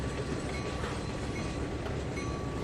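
Train cars rolling on rails in the Trainz 2019 railroad video game make a loud, steady, close rumble with a dense grinding texture and no voices.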